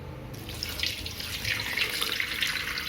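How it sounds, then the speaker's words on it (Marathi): Cold water pours steadily from a tap or jug into a pan of vegetables cooking for a Veg Kolhapuri curry, a continuous close splashing rush with no talk. "याच्यामध्ये थोडंसं थंड पाणी टाकायचं आहे आपल्याला"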